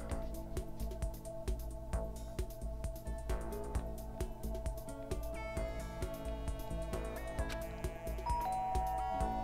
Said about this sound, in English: Ding dong. Huh? Sounds like someone's here.